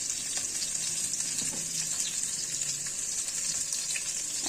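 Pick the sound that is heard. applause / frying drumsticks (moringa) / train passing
frying drumsticks (moringa)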